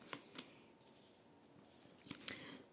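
Tarot cards shuffled by hand, giving a few soft, quiet riffling and slapping bursts, with a sharper pair of snaps near the end, over a faint hushed background.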